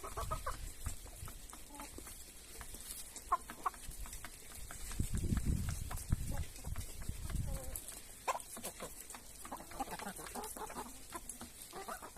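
Farmyard hens and roosters of the Brezgal breed cluck and call in bursts, close and fairly loud, with scattered sharper calls over a busy outdoor background and some voices talking.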